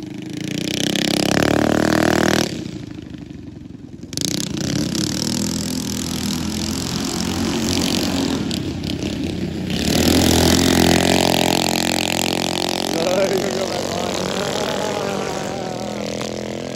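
Outlaw mini bikes race head to head around a dirt track with jumps, their small engines buzzing and revving loudly and continuously, dropping briefly as a bike goes over a jump and rising again as they push on.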